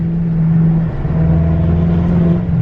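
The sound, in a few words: BMW F10 M5 with straight-piped exhaust revving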